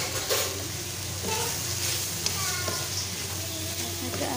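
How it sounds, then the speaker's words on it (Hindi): Chicken chunks and vegetables fry lightly in a pan with a steady soft sizzle and occasional stirring, while a voice talks over it. "ये सारी चीज़ें हल्की से फ्राई हो गई हैं"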